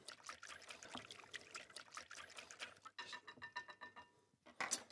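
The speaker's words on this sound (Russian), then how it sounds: "Сейчас немножко добавлю я водички." A little water trickles into a pan of pork with sweet pear and lettuce as it cooks, a soft, faint, steady dribble with light crackle, close by and with no talking.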